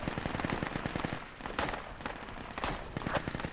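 Video game firefight with rapid bursts of automatic gunfire, a steady rattling stream punctuated by a few heavier shots, moderately distant and sounding alone.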